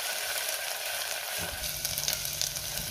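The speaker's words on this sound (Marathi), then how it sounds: "तेल गरम झाले, त्यामध्ये मी कांदा घालते। कांदा मी 2 मिनिटं परतून घेणार आहे।" Onion sautéing in hot oil for a mutton dish, a continuous bright sizzle that shifts partway through as the pieces are stirred and the pan scrapes faintly.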